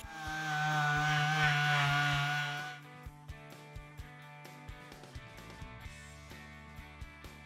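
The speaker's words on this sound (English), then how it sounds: "We're sanding it to get rid of, you know, stuff like this that can come off." A power sander whines loudly on wood for about three seconds, then cuts out, leaving scattered clicks and light knocks against a low hum.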